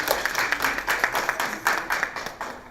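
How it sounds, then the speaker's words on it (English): Scattered applause from a modest audience at a drug prevention education presentation, a few seconds of uneven clapping with sharper individual claps over a soft crowd background. "Let's give her a round of applause."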